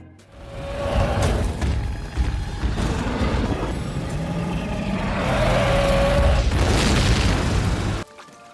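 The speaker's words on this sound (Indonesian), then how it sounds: "Colton berhasil memasukkan bom nitrogen yang sangat besar ke dalam mulut dari ratu tersebut." A giant nitrogen bomb explodes inside the mouth of a monstrous queen spider in a film, a loud, sustained rumbling blast that roars on for several seconds before cutting off abruptly.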